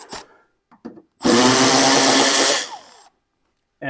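Power tool whirring loudly for about a second and a half while backing out 5.5 mm bolts from the header panel of an OBS Ford truck, bracketed by a few short clicks and taps, close and alone.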